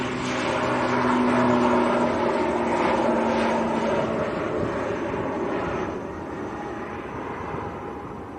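A Ryanair airliner comes in to land at Manchester Airport, a steady broad engine roar holding loud and close throughout, easing only slightly toward the end, with no voices over it.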